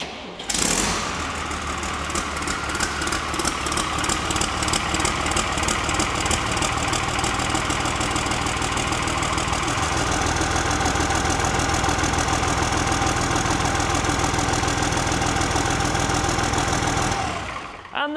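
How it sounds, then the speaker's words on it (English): A Fiat 110-90 turbo tractor engine cranks and catches, then settles into a steady, loud diesel idle that runs on evenly for well over ten seconds before cutting off. "She had a great wee tractor. Starts first time on the button."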